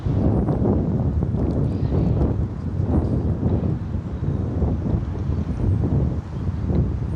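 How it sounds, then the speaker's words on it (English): Steady, loud wind buffeting an outdoor microphone, a continuous roaring rush with gusty surges and no talk. "I'm not that cold, but it is windy."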